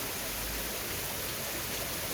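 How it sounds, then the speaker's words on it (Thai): Water pouring steadily down a forest waterfall stream, a dense, unbroken rushing wash that stays loud and even throughout with no voices. "เสียงของ สายน้ำที่ไหลลงมา จากลำธารนน้ำตก"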